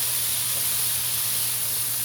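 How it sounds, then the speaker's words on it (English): A steady, broad hiss of onions and peas sizzling in a pan, constant and fairly loud with no talking. "You want to hear that sizzle."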